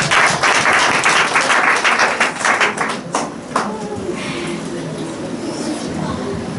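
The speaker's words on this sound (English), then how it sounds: "Clap for her." Children's Day audience claps loudly in a dense burst that thins into scattered claps and fades out after about three seconds, leaving quiet room sound with faint voices behind.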